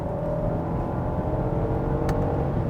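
A 2022 Genesis GV80's engine runs steadily with its 8-speed automatic shifted by paddle shifters, a continuous close, even hum with a faint brief click near the end and no talking.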